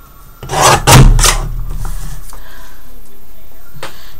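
Paper being trimmed for a mini coin-envelope album: a short run of close, rasping cuts in the first second or so, then a low, quiet background with a faint scrape near the end.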